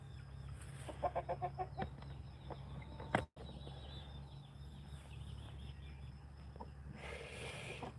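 A rooster on a farm gives a quick run of soft, rhythmic clucks early on, then quieter scattered calls over a low steady hum, faint and at a moderate distance.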